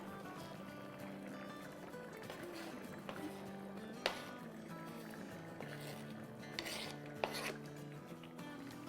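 A spoon scrapes and stirs a mutton keema mixture in a cooking pot, soft rubbing and occasional metallic clinks against the pot, faint and close with a low steady background hum.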